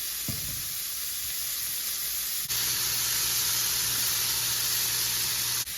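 Shrimp searing and sizzling in a hot pan while being flipped for cabbage dish prep, a steady broad hiss with a brief clatter near the start and a louder surge after the flip, continuing evenly without talk.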